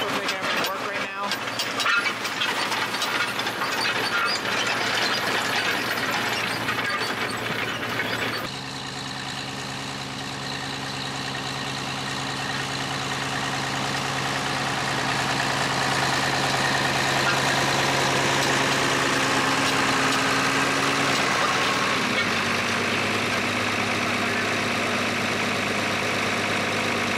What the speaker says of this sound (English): That's our PTO. That's what's making everything work right now.